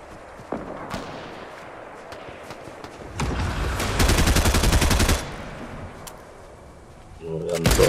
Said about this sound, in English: I'm still shooting at people.